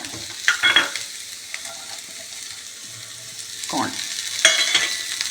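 A pan of vegetables with corn stirred during cooking, giving a few scraping stir strokes over a quiet sizzle, with louder bursts of movement near the start and end.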